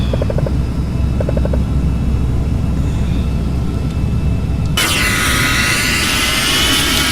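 Jet engines of a Falcon 50 business jet in the Prepar3D flight simulator during descent with full flaps and throttles eased back, a steady loud broadband roar that jumps to a brighter, louder rush partway through.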